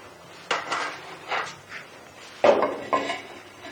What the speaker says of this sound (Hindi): अब मैं इसको ढक के रख रही हूँ 10 मिनट के लिए।